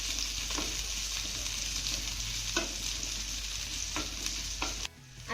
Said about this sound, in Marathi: आता ह्या सगळ्या भाज्या आपल्याला थोड्याशा मऊसूत होईपर्यंत परतून घ्यायच्या आहेत.